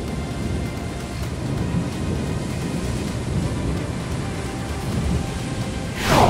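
Thunderstorm with rain: steady rainfall hisses throughout while low thunder rumbles, and a louder burst swells at the very end.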